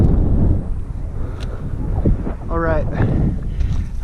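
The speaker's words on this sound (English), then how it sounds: "it is really windy. Really windy, probably hard to hear me" Strong wind gusting across an outdoor microphone while bass fishing, a steady low rumble and buffeting throughout, with someone speaking briefly over it.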